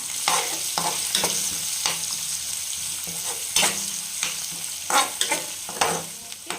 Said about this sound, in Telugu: కొంచెం అల్లం పేస్టు, కొంచెం పసుపు, పచ్చివాసన అంతా పోయే వరకు ఫ్రై చేసుకోండి